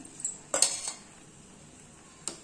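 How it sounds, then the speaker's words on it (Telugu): Ravva kesari stirred with ghee in a pan: a few sharp metallic spoon clinks and scrapes, one cluster early and a lone clink near the end, with near silence between. "నెయ్యి వేసినాం కదా ఒకసారి ఇలా కలుపుదాం"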